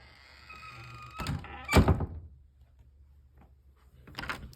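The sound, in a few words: door with door closer swinging shut and latching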